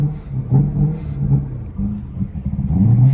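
A 750 hp BMW E90 M3, suffering a fuel pump problem and not taking throttle properly, is held at full throttle on a mountain road, its engine droning and surging unevenly, loud and close with no talk.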